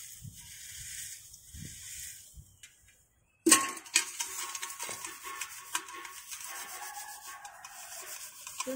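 Dried neem leaves are crushed by hand, giving close, brittle rustling and rubbing that starts sparse and grows into a denser, crackly scrunching after a brief pause, with no voices.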